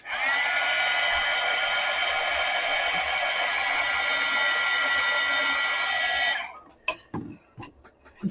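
Hair dryer aimed at a freshly stamped foam-stamp card, blowing a loud, steady whine and rush for about six seconds before switching off, followed by a few light clicks and handling sounds.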